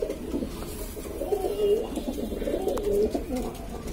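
Several Madrasi pigeons coo close by in a loft, with repeated throaty, rolling calls rising and falling over a low ambient rumble.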